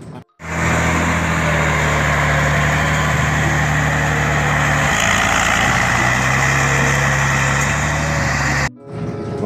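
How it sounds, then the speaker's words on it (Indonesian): A mining truck engine runs with a loud, steady, low rumble close by, holding constant for several seconds before cutting off abruptly. "di sini ada truk tambang."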